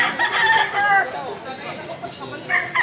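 A rooster crows once, loud and close, followed by softer clucking sounds, on a gamefowl farm in Consolacion, Cebu.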